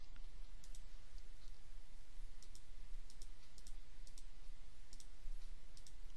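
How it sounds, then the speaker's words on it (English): Computer mouse clicks while tracing an outline in graphic design software, small crisp clicks arriving singly and in quick pairs over a steady hiss, with no talking. "you may need a few more clicks of your mouse"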